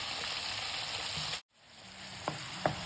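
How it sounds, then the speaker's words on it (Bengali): Chicken pieces frying in about one and a half tablespoons of hot butter in a single pot for creamy cheesy chicken pasta: a steady broadband sizzle broken by a brief near-silent gap, then resuming with a few sharp pops and spatters. "বাটারটা যেই গরম হয়েছে চিকেনগুলো দিয়ে দেবো"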